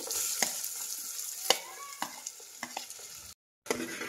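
Onions sauté in a pan until reddish, a crackling sizzle broken by repeated spatula scrapes and taps close by, with a brief silent gap near the end.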